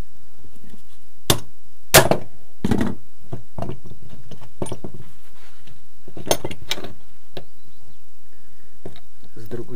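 Sharp metallic knocks of a hammer driving out a pin made from a nail while working on the rear brake shoes of a Lada Kalina, a few separate strikes spaced apart, close and fairly quiet, with short bits of talk between them.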